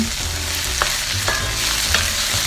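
Onions for tawa chicken stirred as they fry toward golden brown, a continuous sizzle broken by a few spoon scrapes and clacks against the pan, close up with no voices.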